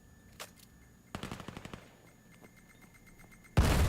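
A grenade blast in the VR shooter VAIL during a competitive match, preceded by a quick burst of rapid gunfire, then a sudden loud explosion erupting at the end.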